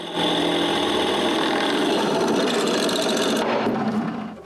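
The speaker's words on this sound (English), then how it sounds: "When it's done, it's time to drill the holes." A drill press running at slow speed grinds steadily through metal post anchors, a continuous loud whirring scrape that tapers off toward the end.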